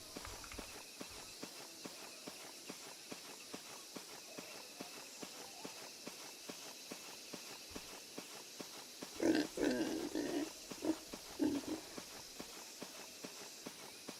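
Pigs oink in the video game The Church in the Darkness, a short cluster of grunts near the middle over steady rhythmic footsteps walking on the ground.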